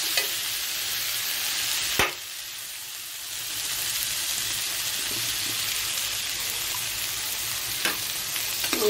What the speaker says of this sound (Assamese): ইয়াতে মই চব মছলা দি দিলোঁ আৰু এতিয়া অলপ ভাজি ল'লোঁ